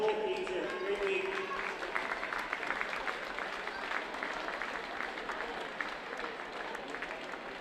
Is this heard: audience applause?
yes